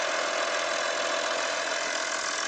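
A 2.5 TDI diesel engine running, picked up through a mechanic's stethoscope as a steady, dense mechanical hum with constant vibration and no pauses, close and even throughout.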